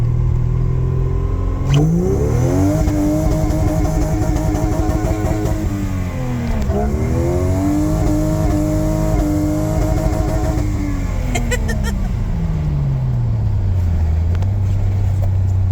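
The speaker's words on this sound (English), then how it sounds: "Ready for that throttle response?" A Vortec 4200 inline-six swapped into a Jeep Comanche revs hard up and down several times, a loud, close engine note that rises, dips and climbs again before settling back to idle.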